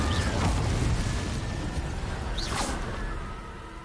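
An Incendio fire spell is cast in a Harry Potter video game, a dense roaring whoosh of flame with a swishing flourish that slowly dies away.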